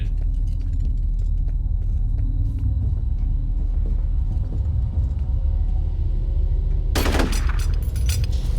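Automatic turret gunfire in the shooter game F.E.A.R., a loud, dense burst erupting near the end over a steady low rumble of ambient game noise.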